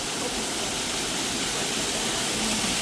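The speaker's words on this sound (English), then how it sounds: "love the sound of the water" Waterfall at Lover's Leap on Lookout Mountain, Georgia, a steady, dense rushing roar of falling water, loud and constant with no breaks or voices.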